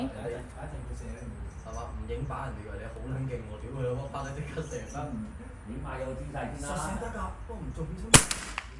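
A single sharp rifle shot cracks near the end during sighting-in with a Vector Optics Hugo riflescope, following continuous talking.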